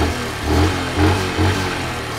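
A Honda Super Cub AA01 motorcycle engine, kick-started, runs at a close, steady idle, its low throbbing punctuated by a few brief surges in volume.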